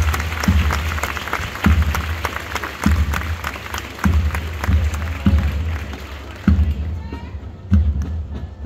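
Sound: applause at Air Force graduation ceremony

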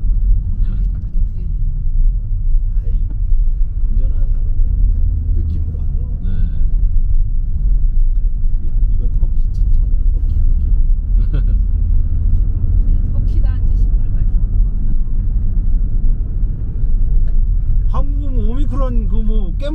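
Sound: many cargo trucks driving in on the road

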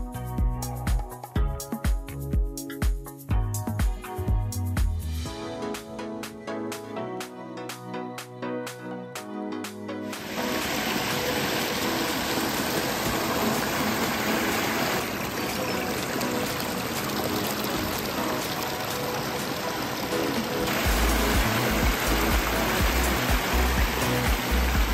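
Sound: water flowing in a recreation pond water feature

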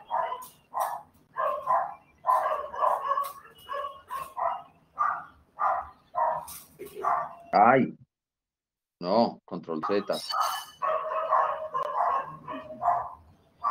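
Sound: dogs barking

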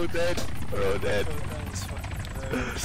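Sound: helicopter in video game Arma 3

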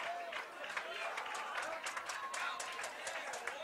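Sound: Raider fans cheering at a lacrosse game

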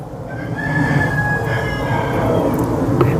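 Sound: rooster crowing

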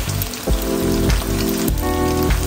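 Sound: beef frying in a very hot oiled pan

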